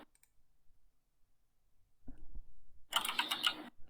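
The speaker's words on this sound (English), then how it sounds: "Again, the clicking is a little distracting." Sharp rapid clicking bursts during a voice recording, a short low thump followed by a dense cluster of crisp clicks near the mic, fairly loud against otherwise quiet background.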